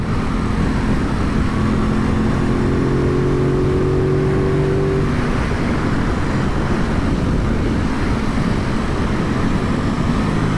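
Aprilia RS660 sport motorcycle ridden on the road, its engine and induction noise rising and falling in a steady loud drone with a gear change midway, heavy wind rush throughout.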